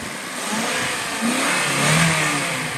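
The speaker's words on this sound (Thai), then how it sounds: "เร่งเครื่องไอ้ลุงเป็นไง" A 2007 Honda Civic FD with a 1.8 engine revs up from idle in a garage-like setting, its note rising and swelling in a couple of close, loud pushes with no talking.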